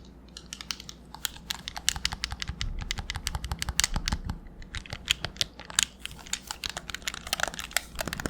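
Buttons on a Nintendo Switch Pro Controller clicking rapidly and steadily at close range, a dense run of light plastic taps with no voice.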